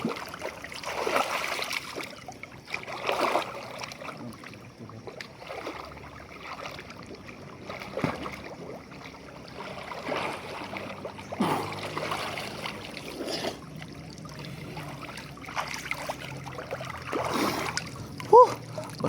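River water flows and splashes steadily through the whole stretch, with irregular louder splashes and a constant rushing background, while voices are heard talking over it.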